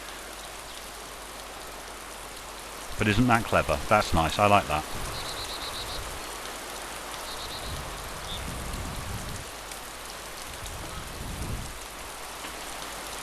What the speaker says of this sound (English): The way that rain's lashing down.